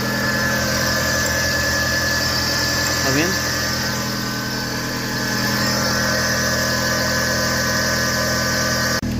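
A car engine idling in gear with a steady whine that could come from the power steering pump or the alternator, a constant drone with a brief rising sweep near the three-second mark, with a voice speaking briefly.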